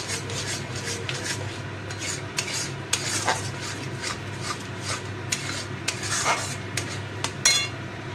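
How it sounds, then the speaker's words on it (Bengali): Turmeric and chili spice paste being stirred and fried in a pan for paneer butter masala, with steady scraping and rubbing of a spoon against the metal, occasional sharper clinks, and a soft sizzle underneath. "এবার এটাকে একটুখানি ভালো করে কষি কষাবো"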